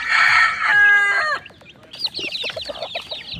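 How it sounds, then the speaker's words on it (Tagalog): Chickens at feeding time: a loud rooster crow opens, followed by busy clucking and chirping from the flock close by, with no one speaking. "Yan po mga kaibigan yung ating sisiw."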